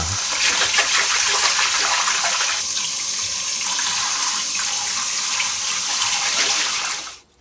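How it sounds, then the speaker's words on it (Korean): Tap water runs steadily and loudly as green garlic stalks are rinsed under it to wash out trapped sand, the hiss continuing unbroken before cutting off at the end. "줄기 사이에 눈치 없이 끼어있는 모래가 있어서 꼼꼼히 한 번 더 씻어줍니다."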